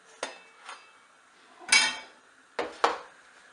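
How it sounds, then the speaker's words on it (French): A saucepan of milk clinks and clatters against a pitcher while being handled for yogurt with raspberry coulis, a few sharp metallic knocks spaced apart in a quiet kitchen. "Je vais prendre la casserole et je vais mettre bien dans un pichet pour que ce soit plus simple à servir"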